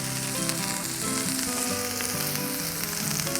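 Smashburger patties fry on a hot Blackstone flat-top griddle, giving a steady, even sizzle and crackle that holds for a few seconds at moderate volume with no voices over it.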